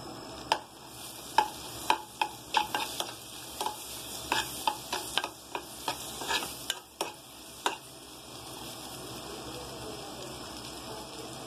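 Green chillies frying in oil in a pan, a steady faint sizzle broken by a run of sharp stirring clatters and scrapes over the first eight seconds, then a quieter sizzle alone.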